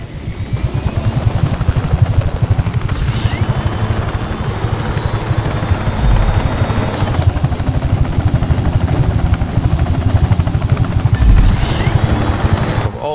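A helicopter flies in the Just Cause 3 video game, its loud steady rotor chop running throughout, with bursts of gunfire layered over it and no talk.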